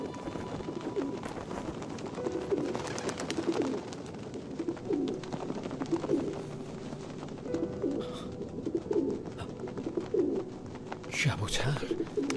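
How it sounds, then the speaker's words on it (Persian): Pigeons coo in several repeated, rhythmic phrases close by throughout, with some rustling and a brief louder burst near the end. "کبوتر"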